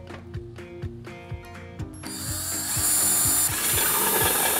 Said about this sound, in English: So step one is to drill a hole in the lid of your mason jar.